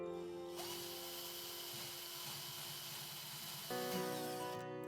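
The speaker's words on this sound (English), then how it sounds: "Now pre-drill the holes." A power drill pre-drilling holes in a kitchen drawer front whirs steadily for several seconds, a continuous high-pitched motor whine with a brief shift in pitch near the end before stopping.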